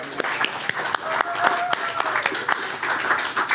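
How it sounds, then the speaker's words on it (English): At a conference welcome kickoff, the audience gives a short round of applause. The clapping is loose and fairly close, with scattered sharp claps and a thin tone running through the middle. "please give a round of applause for these two young ladies"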